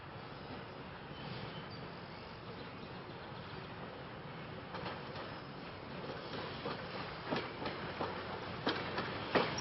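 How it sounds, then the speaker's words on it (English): An R2 Silverliner commuter train from Warminster approaches CP Carmel with a steady, muffled rumble that grows slightly, and rhythmic clicks of wheels on rail joints build toward the end. "At 10:58 a.m. we have an R2 train coming down from Warminster, about to enter the main line here at CP Carmel."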